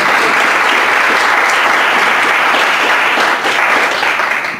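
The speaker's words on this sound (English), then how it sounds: "another round of applause" Loud, dense applause from a large audience at a community college presentation on African American music therapy, steady and sustained throughout before tapering slightly at the end.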